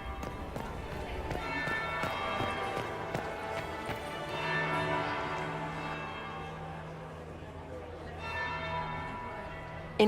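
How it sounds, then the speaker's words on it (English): A large bell rings in the game Dragon Age Inquisition, its long resonant tones sustained alongside scattered footsteps and tapping, with some background voices. "That would be the second bell"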